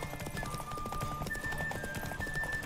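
Horse hooves clip-clop in rapid rhythm in The Witcher 3: Wild Hunt, mixed with game music tones and faint whinnying, moderately quiet under the game's ambient sound.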